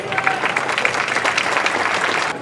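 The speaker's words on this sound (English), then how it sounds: "let us have three more big round of applause to the order" A crowd at a talk on the Romans in Chester claps in a thick, even round of applause, many hands close together and continuing throughout without speech.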